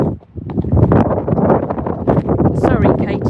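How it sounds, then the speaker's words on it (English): Strong wind blasts across the microphone in rough, rumbling gusts, with a voice speaking partly buried beneath it. "Sorry, Katie, it's very windy"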